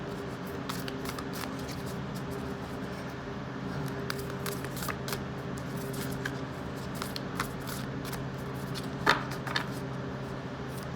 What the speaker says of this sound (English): Fast forward if you don't like the shuffling.